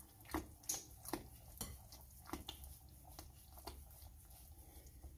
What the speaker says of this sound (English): So you want to just make sure you mix that up real good.